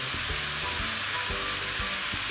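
Shredded cabbage and spring onion frying in a pan for chicken vegetable pasta, a loud continuous close sizzle with faint low knocks of stirring underneath, no talking.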